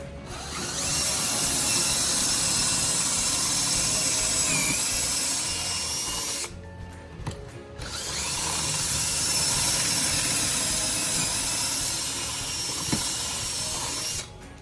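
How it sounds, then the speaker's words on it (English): A power drill runs steadily through a wooden table leg clamped in a pocket-hole jig, a loud continuous whirring grind, pausing briefly midway before a second long run. "I'm going to drill pocket holes in the leg now."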